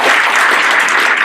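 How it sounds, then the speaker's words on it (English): A brief, loud burst of applause from a room of attendees at a legislative breakfast event, many hands clapping densely and close. "Nice round of applause for Michael."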